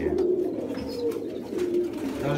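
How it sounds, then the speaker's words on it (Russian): Pigeons, including a black-tailed one, coo in a low, throaty, rolling drone that carries on throughout. The sound is close and alone, with faint chirps above it and no talking. "чернохвостый голубь у меня там сидит"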